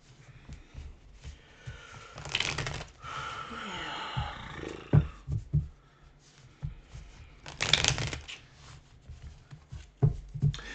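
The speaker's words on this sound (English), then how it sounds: "Let's go ahead and cut the deck. And shuffle." Tarot card deck being cut and shuffled by hand, bursts of riffling card noise around three and eight seconds with soft handling rustles between, close and moderately loud.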